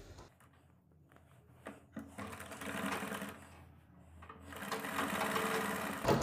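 A sewing machine stitching the neckline of a kurti, its needle running in a close, rapid mechanical chatter that starts quietly, swells in two longer bursts and pauses briefly between them.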